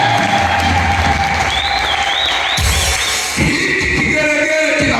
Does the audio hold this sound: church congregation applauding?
yes